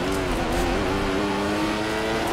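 An F1 race car engine in a PC racing game, revving with a steady, loud, high-pitched drone that holds throughout with slight pitch shifts.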